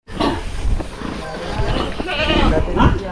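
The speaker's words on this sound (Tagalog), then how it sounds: "may narinig akong kambing ah" A goat bleats loudly nearby a couple of times, with farmyard noise and some faint voices in the background.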